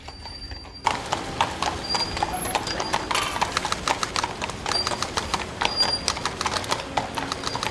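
Steady clip-clop of white horses' hooves pulling a carriage, fairly close and continuous, with a brief whinny and faint background murmur.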